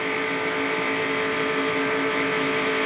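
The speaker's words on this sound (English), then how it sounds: "There's Earnhardt Jr., the 3 car going by." NASCAR Busch Series stock cars at the 1999 Touchstone Energy 300 roar past on track, a loud, sustained engine drone with no talk over it.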